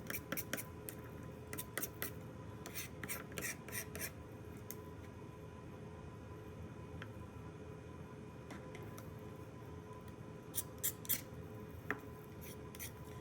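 A knife scrapes membrane off lamb rack bones in quiet, repeated short rasping strokes, close and faint against a low background hum.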